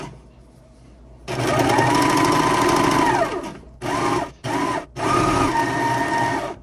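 A serger overlocks the edge of T-shirt fabric, its small knife trimming as it runs: a long loud whirring burst with a rising and falling motor pitch, then several shorter bursts broken by brief pauses, all close and with no talk.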